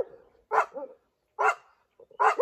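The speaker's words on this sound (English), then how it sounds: "So then, and then the other barks and the dogs in the neighborhood will bark as well." Neighborhood dogs bark in the morning, three clear, fairly close bursts of barking separated by quiet gaps.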